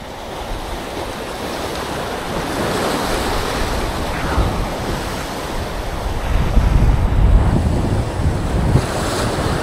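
Sea waves wash and surge under steady wind buffeting the microphone during an evening fishing trip on the sea at sunset, a continuous loud roar that swells toward the end with no talking.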